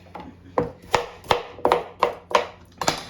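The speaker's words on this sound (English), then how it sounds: "Chunk a carrot." A knife chopping a carrot into chunks on a cutting board, about eight crisp, evenly spaced cuts close up, with no talking.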